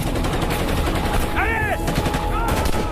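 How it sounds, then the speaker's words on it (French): Sustained machine gun fire in a desert canyon shootout from an action film, a loud continuous volley with whining ricochets cutting through the dense clatter. "Ils nous tirent dessus à la mitrailleuse!"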